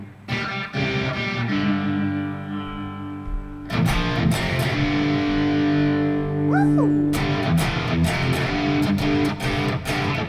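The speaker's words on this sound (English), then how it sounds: "I need all the distortion for this one." An electric guitar with heavy distortion rings out loud and close in sustained, buzzing chords and notes, with a short bend near the middle and sharp attacks between phrases.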